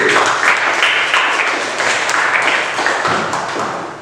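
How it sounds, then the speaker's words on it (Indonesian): Classroom applause for a student, a loud, steady patter of many hands clapping together for about four seconds, tapering slightly at the end. "Tepuk tangan untuk Mbak Putri"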